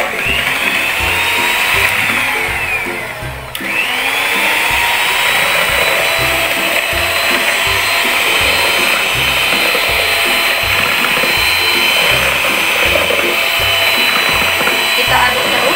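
Electric hand mixer stirring at its lowest speed, a steady close whir with a rhythmic low chop and a brief dip in pitch near the start, running on its own without talk.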